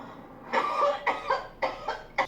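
A woman coughs hard in a run of four separate bursts, the first long and rattling, then three shorter fits spaced apart, close to the microphone with no talking.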